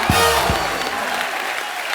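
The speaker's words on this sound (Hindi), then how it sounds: "एक बार जोरदार तालियां।" Studio audience applause on a comedy talk show, a burst of clapping that starts with a couple of sharp claps and settles into steady, moderately loud applause.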